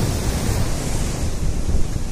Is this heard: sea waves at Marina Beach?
yes